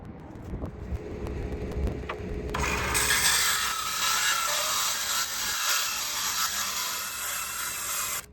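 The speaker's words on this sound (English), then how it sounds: "I'm going to go ahead and cut the plywood to the lengths that I need to make this work" Plywood being cut to length with a saw during a solar power upgrade of an RV, a steady loud rasping cut that builds after a few seconds of lighter scraping and holds continuously to the end, close to the microphone with no talk.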